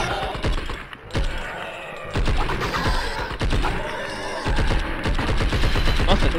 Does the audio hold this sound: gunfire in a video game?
yes